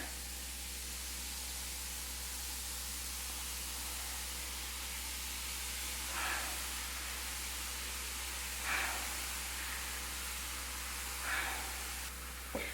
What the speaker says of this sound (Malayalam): ഇത് പെട്ടെന്ന് തന്നെ ഫ്രൈ ആയിട്ട് വരും, ഒരുപാട് സമയമൊന്നും എടുക്കില്ല കേട്ടോ.